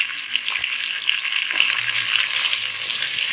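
Chicken frying in a pan for mutanjan rice with sugar stirred in gives a continuous, close, even sizzle, with soft stirring knocks now and then.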